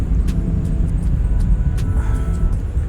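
A car cruises on a road toward Mumbai airport's Terminal 2, with a steady low engine and tyre rumble inside the cabin and a few faint ticks and knocks over the drone.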